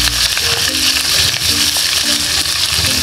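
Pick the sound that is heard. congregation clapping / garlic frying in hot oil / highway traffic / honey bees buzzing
garlic frying in hot oil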